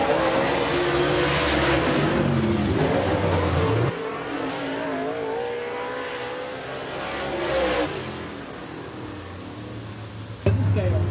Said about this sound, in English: Brian Ligon out of Augusta, Georgia, car number 4, down the main straightaway.